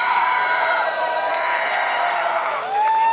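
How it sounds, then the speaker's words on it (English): A crowd at a Halo esports match cheering and whooping, a loud continuous roar of many voices with rising shouts toward the end. "give us a cheer out in the crowd."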